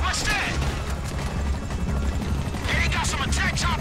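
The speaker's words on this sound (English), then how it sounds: "Hey, got some attack choppers on me." Attack helicopters in the video game GTA 5 thrum steadily amid a heist firefight, with gunfire, crashes and a person talking over the continuous rotor roar.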